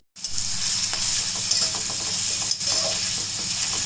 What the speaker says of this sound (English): I have added in some oil and now we'll add the onions and we are going to fry them